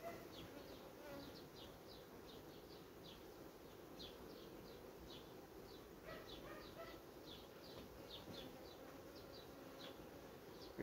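A steady, faint hum of honeybees buzzing around a hive, with scattered higher whines of individual bees passing close.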